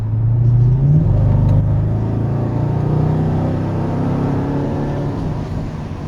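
A 2004 Mercedes SL55 AMG accelerates hard with a loud, close engine roar that climbs in pitch, then settles into a sustained, steady rumble.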